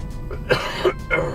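A few short, rough coughs in close succession from someone recovering from a cold, close to the microphone, with no talking.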